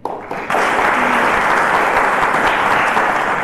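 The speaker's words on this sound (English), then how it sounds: "I think that deserves a round of applause." Studio audience on a quiz show breaks into loud, sustained applause, starting with a few scattered claps and swelling to a dense, even roar of clapping.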